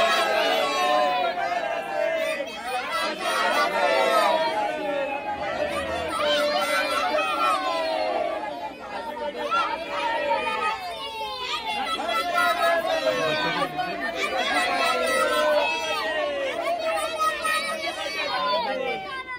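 A dense crowd at Sunny Deol's birthday celebration chatters and calls out, many overlapping voices forming a continuous loud babble with occasional shouts rising above it.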